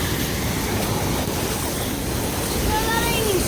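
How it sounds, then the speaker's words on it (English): Strong floodwater rushes over a flooded bridge in a loud, steady roar that holds throughout, with wind buffeting the microphone and no speech. "The water is going harder than it does at the freaking ocean right now."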